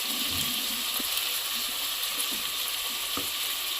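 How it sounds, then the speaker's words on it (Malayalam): Ginger garlic paste and leaves sauté in a hot pan with a steady faint sizzle and crackle, plus a few soft scraping stirs, and no talking. "ഇത് നല്ലോണം വഴറ്റ കേട്ടോ."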